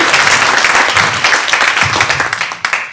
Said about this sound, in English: Let's give a wild applause to encourage our students.